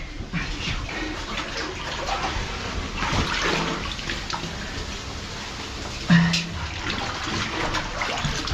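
Steady rushing water fills the space inside an abandoned underground mine in Derbyshire, UK, a continuous cascading roar with a brief splash partway through and no talking.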